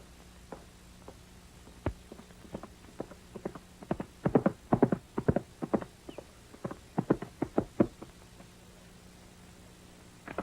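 Horse hooves clip-clopping at a walk, a steady run of sharp, fairly close hoof strikes that bunch into quicker clusters midway and thin out again, with no talk over them.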